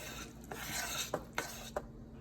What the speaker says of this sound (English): we're going to stir all of that up